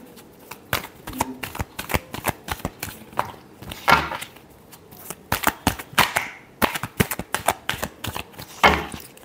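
A tarot deck is shuffled by hand in quick bursts of crisp riffling and slapping card sounds, close and fairly loud, with short pauses between runs and no talking over it.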